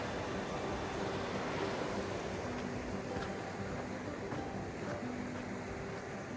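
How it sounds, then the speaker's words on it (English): River flowing beside a mountain trail on the route from West Fork Rock Creek over Sundance Pass, a faint, steady rushing wash of water that stays even and continuous. "Beautiful river."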